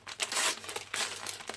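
Tape-wrapped yarn package being pulled open, with sharp crinkling and tearing bursts of plastic tape in several close, uneven pulls.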